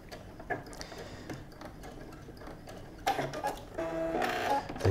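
A sewing machine backstitches at the edge of a fabric soup bowl cozy. Soft ticking runs through the first half, then a louder, faster mechanical whirr starts near the end, with no talking.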